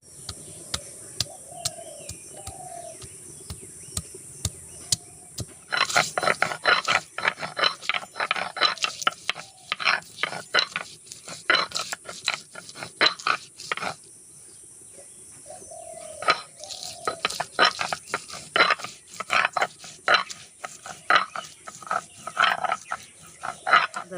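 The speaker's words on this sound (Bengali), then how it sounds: "প্রথমে নেব রসুন আর আদাটা একসঙ্গে করে বেটে নেব" Garlic and ginger are ground together by hand in rhythmic, rasping scraping strokes that repeat close up. They come in quick runs broken by short pauses, after a quieter stretch at the start.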